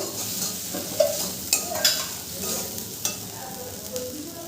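Spice masala with tomatoes sautéing in a pan for a Bengali jackfruit curry, a steady sizzle with a few soft scrapes of stirring, close and alone without talk.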